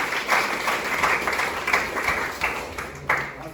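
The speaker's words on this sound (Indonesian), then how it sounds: "Sekali lagi tepuk tangan untuk kita semua." An audience in a church-teaching class session claps together in a short burst of applause, moderately loud and uneven, fading slightly across a few seconds with no talk over it.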